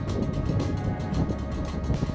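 Wind buffeting an outdoor microphone in the Moroccan Atlas mountains, a loud low rumble with gusty swells that carries on throughout.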